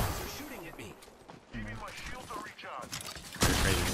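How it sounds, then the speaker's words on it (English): Video game gunfire crackles in bursts from mid-distance, with a louder blast near the end, mixed with game effects and scattered chatter between players. "They're shooting at me"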